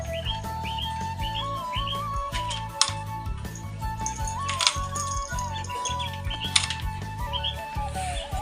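Three quail in a farm enclosure flutter and call, with brief wing flaps and high chirps over a steady background hum and low rumble.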